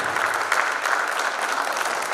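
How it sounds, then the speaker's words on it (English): Steady applause from an audience at a Diwali community dinner, a dense continuous clatter of many hands filling the room at moderate volume without letting up. "Bijal and Siddharth, I think we really give them an applause"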